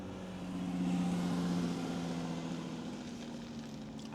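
Distant car traffic passing on a quiet town street, a low steady hum of engines rising slightly then fading, faint and far off with no talk over it.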